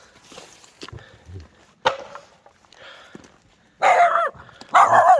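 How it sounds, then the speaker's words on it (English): A guard dog barks at night at a remote wild camping spot in Scotland, several sharp barks growing louder and closer toward the end, with quiet rustling between them. "Guard dog. Guard dog."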